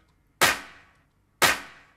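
Two claps programmed in FL Studio, one bright and one darker and warmer, each a sharp hit with a decaying tail, spaced about a second apart with nothing in between.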